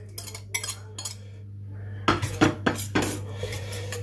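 An egg mixed with onion and garlic is beaten in a large bowl for an Andalusian cod omelette, with a run of quick clinking strokes of utensil against bowl, at first spaced out and then denser and louder, with no talking.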